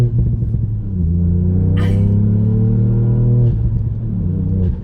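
A tuned Mk8 Ford Fiesta ST hatchback with stage 1 remap and aftermarket exhaust revs up into a deep, steady throaty drone that holds for a few seconds, then eases off and swells again, loud and close.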